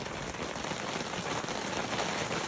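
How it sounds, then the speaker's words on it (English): Hail and rain patter densely on a tent or surface at a mountain campsite on Kilimanjaro's Northern Circuit, a steady close hiss of many small impacts with no voices. "Got a little bit of a hailstorm coming in."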